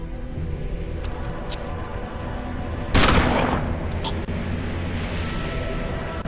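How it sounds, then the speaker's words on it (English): A single sharp, loud shotgun blast goes off partway through in the turn-based western video game Hard West, standing out over a steady low game backdrop. "Have a shotgun to the face."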